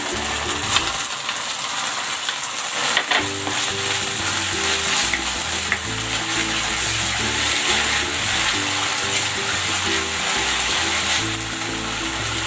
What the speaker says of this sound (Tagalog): Ilalagay ko na itong tomato sauce